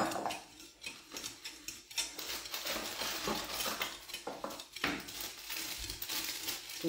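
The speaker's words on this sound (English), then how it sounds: "I'm going to chop it by hand to the bowl I'm going to use" Dark chocolate is chopped by hand for ganache, a knife clattering in dense, irregular cuts against a board with metallic clinks mixed in, close and busy, without talk.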